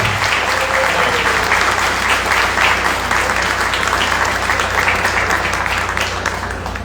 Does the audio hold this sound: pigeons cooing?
no